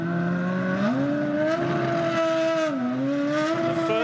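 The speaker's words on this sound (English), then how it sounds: "The first time a Formula One car to cross the Sydney Harbour Bridge." A Formula One car drives across the Sydney Harbour Bridge, its high-pitched engine note loud and continuous, rising and shifting as it changes gear and speed throughout.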